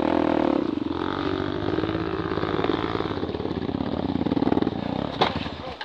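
An Indonesian motorcycle engine runs steadily and revs up, loud and close, with a continuous throaty drone throughout.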